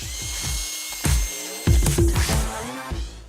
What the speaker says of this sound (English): So I've got myself some pretty dense shale, and just like they do in industry, I'm going to drill down into it.